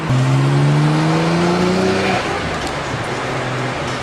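A stock Nissan Skyline GT-R R32 engine revs loud and close, its pitch climbing steadily for about two seconds before it cuts off and settles into a rough, rumbling idle.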